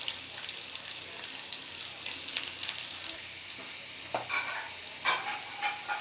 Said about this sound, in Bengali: তেল দিয়ে দিছি, আর এই যে 5 ফোড়ন আছে, পেঁয়াজ